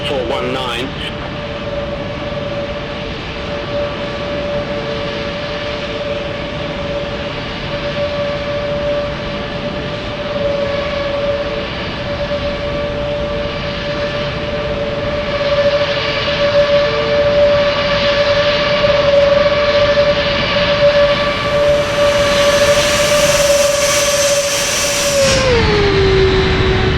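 Cabin sound of a Boeing 737-800 landing at Kristiansand on an Oslo–Kristiansand flight at sunset: steady loud engine roar with a sustained tone, rising near the end, then a sharp drop in pitch as power comes back after touchdown.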